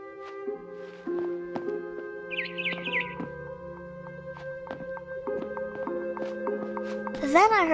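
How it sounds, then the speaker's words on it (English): A barn swallow in the video game What Remains of Edith Finch chirps in short, bright tweets that cluster into a brief trill, heard over a sustained tonal music bed with a rising chime flourish near the end. "Then I heard chirping outside my window."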